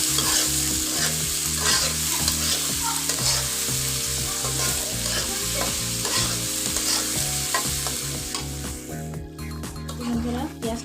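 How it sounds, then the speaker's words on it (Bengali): Onions and green chillies fry loudly in hot oil as a spoon stirs them round the pan with steady scraping strokes, a continuous close sizzle and background music throughout. "তেলের ভিতরে পেঁয়াজটাকে ভালো করে ভেজে নেব বন্ধুরা"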